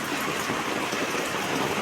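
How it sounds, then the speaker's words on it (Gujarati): Steady rain falls in a constant, dense hiss with no breaks, close and even throughout, heard alone without voices. "અત્યારે જુઓ વરસાદ ચાલુ થઈ ગયો છે"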